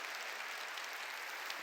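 A church congregation claps steadily through a New Year's Eve service sermon, a dense, even wash of applause from many hands with no pauses and no clear voices.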